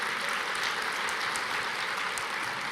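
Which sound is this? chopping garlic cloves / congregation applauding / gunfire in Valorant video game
congregation applauding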